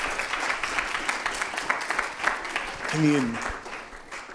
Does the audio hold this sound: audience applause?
yes